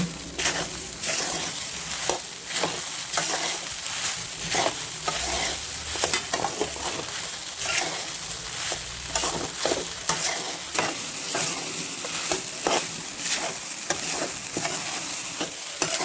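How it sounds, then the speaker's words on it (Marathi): Sago khichdi sautéing in ghee in a pan, a steady sizzle with repeated scraping stirs of a spoon throughout, close and continuous with no talk. "आता आपली खिचडी परतून झाली"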